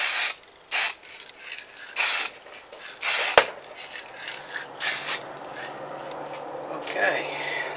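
Spray paint hisses onto the edges of a Mitsubishi Colt air filter housing in several loud, short bursts, followed by a softer, rougher rasping hiss.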